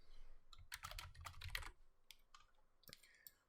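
Quiet keystrokes on a computer keyboard, a short irregular burst of clicks typing out a name, then a few scattered taps, close and alone without talk.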